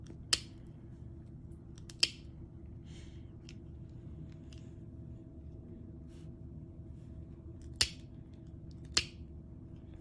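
Four sharp, crisp clicks from clippers trimming a dog's nails, spaced irregularly and standing out against a quiet, low background hum.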